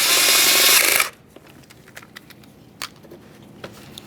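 A power tool snugs 10mm mounting bolts on a 2.3L Ford Ranger valve cover in a loud whirring burst of about one second, followed by faint taps and clicks.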